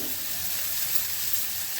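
Onion and grated ginger fry in a pan with potatoes for a Bengali jackfruit and prawn dish, a loud continuous sizzle with steady hiss and no pauses.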